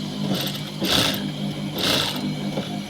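A sewing machine stitching the waistband of a petticoat, a close, loud, steady mechanical whirr that swells twice in short surges.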